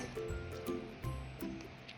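A thick batter of flour, cornstarch and cold water is stirred in a bowl, giving soft wet squelching and sloshing strokes that repeat in an uneven rhythm, close and fairly quiet.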